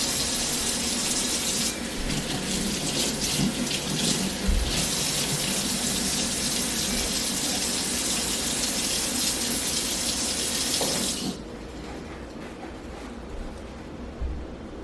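Surgical scrub sponge wetted under a running tap at a sink, a loud steady gush of water that runs continuously before abruptly easing to a softer flow near the end.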